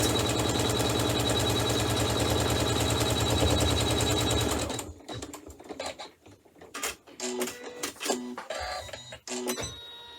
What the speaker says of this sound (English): stitch step number 8 on the machine